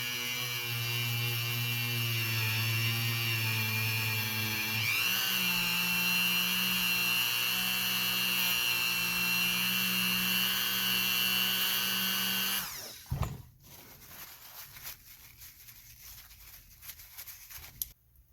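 Dremel rotary tool polishing a firearm component with polishing compound: a steady high-pitched whining motor hum whose pitch shifts slightly under load for about thirteen seconds, then stops, leaving faint handling clicks.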